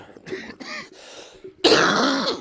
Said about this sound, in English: now you got me coughing again